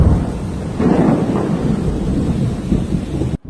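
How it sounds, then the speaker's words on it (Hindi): Heavy rain pours steadily with rolling thunder at a college, a loud, continuous broadband roar that holds for several seconds before cutting off abruptly near the end; no one speaks. "एक दिन की बात है, ज्योत्सना और अनन्या दोनों कॉलेज में थे कि तभी बहुत तेज बारिश होने लगी।"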